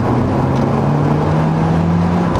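A 2018 Honda Civic Type R engine pulling hard in third gear while merging, a loud, steady in-cabin drone with a slowly rising pitch and road roar underneath, no voices.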